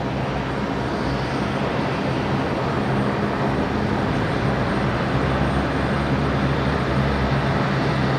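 An airliner performing a go-around at night at Brisbane Airport, a loud sustained jet engine roar that stays steady throughout, broad and rumbling, with no talk over it.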